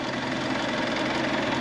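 A tractor engine runs steadily while levelling a field, dragging an implement just over the surface with its weight compressing the soil. It is a loud, continuous mid-to-low drone with a slight knocking texture and no talk.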